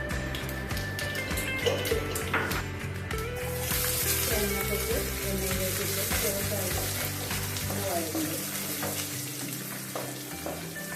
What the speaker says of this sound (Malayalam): വെളിച്ചെണ്ണ ചൂടായി കടുകിടാം